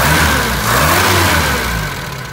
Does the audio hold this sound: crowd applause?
no